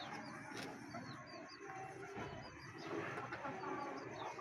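Backyard chickens and a rooster cluck and call among pigeons and rabbits, short chirpy bird calls scattered over a faint, rustling background, fairly quiet and with no one speaking.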